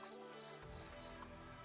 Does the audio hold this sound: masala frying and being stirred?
no